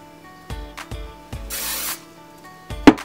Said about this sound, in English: I'm gonna spray that.